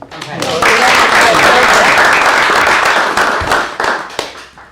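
Loud, sustained applause fills a council meeting chamber, many hands clapping together in a thick steady wash that swells quickly, holds, then thins out into a few scattered claps.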